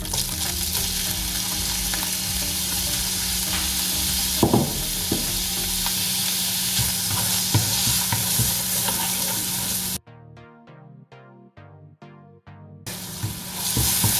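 Ginger garlic paste sizzles and fries steadily in a pan, stirred with a few scraping knocks, continuous loud frying that briefly drops off near the end before resuming.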